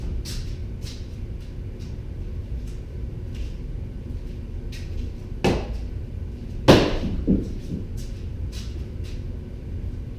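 A shield bumps against a wooden pell during SCA heavy combat training, giving two sharp, loud knocks midway amid lighter scattered taps and shuffling, fairly close with no talk.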